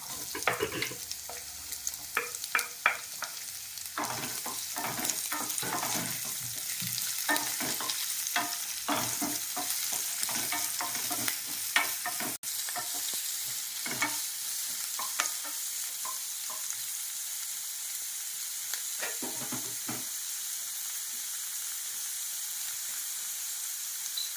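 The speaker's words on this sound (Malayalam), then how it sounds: "സബോള അരിഞ്ഞത് ചേർത്ത് കൊടുക്കുക" Chopped onion fries in a pan for a bottle gourd and moong dal curry, giving a steady close sizzle broken by frequent scraping stirs, with no voices.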